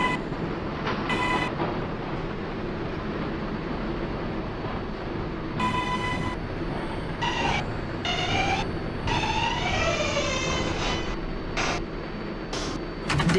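A New York R142A 6 subway train running between stations, with steady loud rumbling and rail roar and a scatter of brief squeals and higher tonal whines from wheels and motors.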